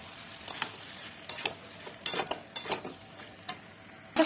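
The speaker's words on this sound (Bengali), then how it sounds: "এগুলোকে মশলার সঙ্গে ভালো করে মিশিয়ে নিতে হবে।" Fried vegetables stirred into spice masala in a pan: a low sizzle underneath a string of close, irregular scrapes and clinks of a spatula against metal.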